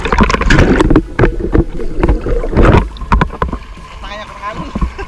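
Sea waves wash at a beach resort, a rough, surging rush that rises and falls in loud bursts, mixed with heavy wind buffeting the microphone and fading to quieter water near the end.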